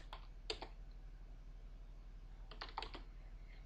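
Keys clacking on a computer keyboard as commands are entered in the Aardwolf text-based MUD game, in two short bursts of quick taps separated by a quiet pause over low background hum.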